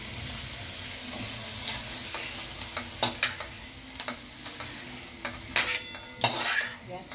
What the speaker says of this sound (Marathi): त्याचं म्हणजे काळी व्हायला द्यायची नाही, फक्त परतून घ्यायची